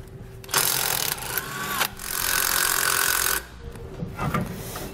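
A power tool whirs in loud, steady bursts as it spins off the hub nuts on a trailer axle with Dexter electric brakes, running for a few seconds at a time with brief pauses and clinks between runs.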